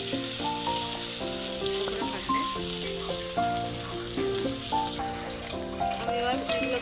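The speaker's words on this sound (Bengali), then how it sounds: "কড়াই তেল বসিয়ে দিয়েছি, তেলও গরম হয়ে গেছে। আমি এবার একটা একটা করে এগুলো ভেজে নেব।" Soybean kofta balls fry in hot oil in a wok, a continuous loud sizzle heard alongside background music.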